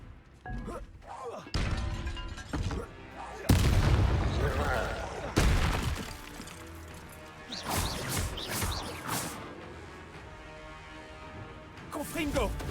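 A Repulso spell cast in the Hogwarts Legacy video game during a wizard duel: loud booming blasts and crashing impacts burst out in several heavy hits, mixed with game effects and a talking voice.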